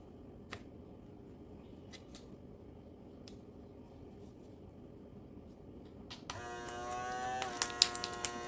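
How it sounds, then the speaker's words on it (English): An ikiu handheld mason jar vacuum sealer starts up near the end, a close electric motor whine with a rising buzzy pitch, after a quiet stretch of faint handling clicks. "look at how well that is sucking all of the air out of there"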